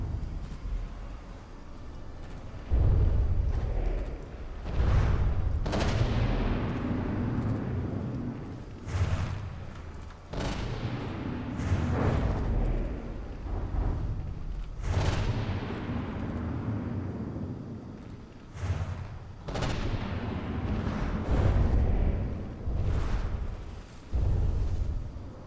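Battleship turret guns firing in a video game, with shells exploding: a long run of heavy booms at irregular intervals, each with a crack and a rolling low rumble, loud and overlapping.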